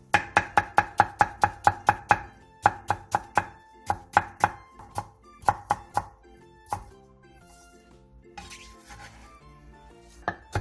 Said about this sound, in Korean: 배 4분의 1개도 양파와 비슷한 두께로 채 썰어주세요.